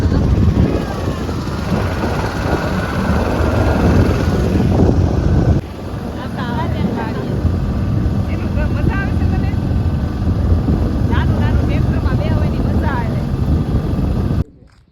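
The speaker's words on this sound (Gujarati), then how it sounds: "અવાજ આવે છે ટ્રેક્ટરનો" A loud, steady tractor engine rumble runs throughout with wind buffeting the microphone, heard while riding on the tractor, while voices talk over it before it cuts off at the end.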